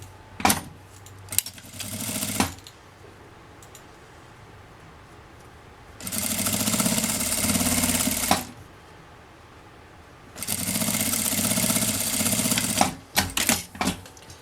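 A sewing machine stitches strips of red patchwork fabric for a tea-towel border, running in two long steady bursts of several seconds each, with short quiet pauses and small handling clicks in between.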